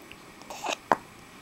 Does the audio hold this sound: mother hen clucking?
no